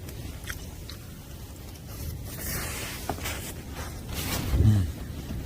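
Food being bitten and chewed at a windy backpacking campsite, moist crunching and mastication sounds close by over a steady rush of wind noise, with no talking.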